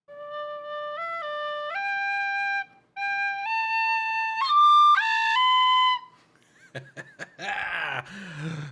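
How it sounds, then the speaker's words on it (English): A tin whistle plays a short stepwise tune of clear, sustained notes, close and fairly loud, followed by laughter and groaning. "Some asshole got a tin whistle."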